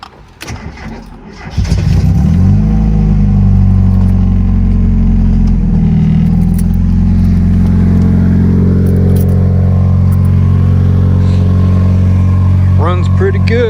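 A loose, rough-running car engine cranks and fires after a short pause, then settles into a loud, steady idle with rattling loose parts throughout; someone speaks over it.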